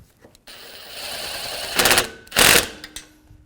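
A ratchet tightens an AC condenser mounting bolt on a 2009-2014 Nissan Maxima, giving two short, loud rasping bursts of clicks close by against quiet background noise.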